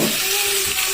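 Onion frying in oil in a home kitchen pan, a steady broadband sizzle that stays close and even for the whole second, with a faint tonal hum underneath and no talk.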